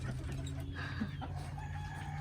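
Backyard chickens in a coop cluck and murmur faintly over a low steady hum, with a few soft calls rising above it.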